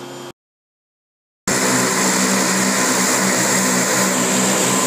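Super Guppy cargo aircraft, built from several planes, with P-3 engines and C-130 propellers, at March Air Reserve Base: a loud, steady propeller and engine roar, broken by about a second of silence near the start.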